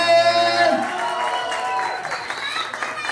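Party crowd applauding for a 50th birthday celebration, steady clapping with voices and music running throughout under a lively, close mix.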